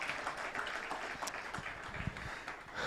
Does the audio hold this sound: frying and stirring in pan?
no